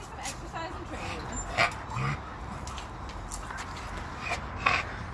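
A shelter dog whimpers and gives a few short yips and barks, with people talking nearby.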